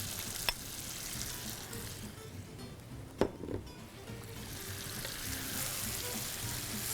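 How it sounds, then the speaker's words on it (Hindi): Chicken fries and is stirred in a pot for arbi (taro) salan, giving a continuous close sizzle with two sharp clinks of a utensil against the pot and some scraping from stirring; no one talks. "अब इस स्टेज पर अब हम इसमें चिकन को शामिल करेंगे। अब इसकी भुनाई होनी है भाई।"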